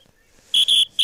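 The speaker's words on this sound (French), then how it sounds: "Beaucoup de coups de sifflet en cette fin de match." Referee whistle at a quidditch match, three sharp shrill blasts in quick succession, loud and close, with faint background noise between them.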